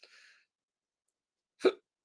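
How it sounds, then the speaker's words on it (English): Two hiccups from a man during a live rye whiskey tasting, a faint one at the start and a sharper, louder one about a second and a half later, alone in near silence. "Oh boy, I got hiccups already."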